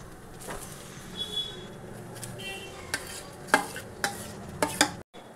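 Ridge gourd paste sizzles and fries in a pan while being stirred, with scraping strokes and a few sharper clinks of a utensil against the metal, close and moderately loud, without talk.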